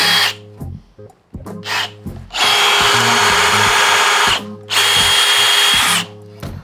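A power drill fitted with a DEWALT bit bores into material, probably wood, in several loud bursts of high motor whine, with short spin-ups and pauses followed by longer sustained runs, close to the microphone.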